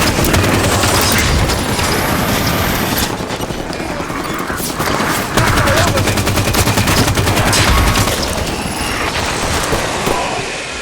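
Rapid scattershot gunfire in the video game Halo 5, dense bursts of loud blasts running nearly continuously, with a faint voice mixed in under the combat noise.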